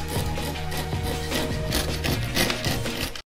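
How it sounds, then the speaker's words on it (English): A carpet knife slices grip tape along the side of a neon yellow custom scooter deck, giving a close, continuous rasping scrape that carries on steadily for about three seconds with no talking. "Now take your carpet knife and cut off the grip tape along the side of the deck."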